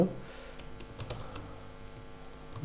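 Rapid keystrokes clatter on a computer keyboard while text is typed into Microsoft Word, a few sharper presses standing out like the Enter key, steady and close with no talking over them.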